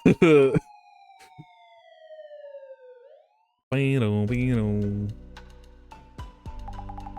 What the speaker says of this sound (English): Me when I hear a siren.